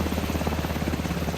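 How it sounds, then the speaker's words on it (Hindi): A helicopter in the video game Alan Wake 2 thrums with a steady rotor beat, a continuous low chop that holds at moderate loudness for the whole moment. "ये आपका आ गया हेलीकॉप्टर"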